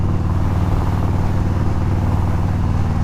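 A Harley-Davidson CVO Road King motorcycle with 100,000 miles on it rumbles steadily under way, its loud, close engine throbbing evenly with no talk.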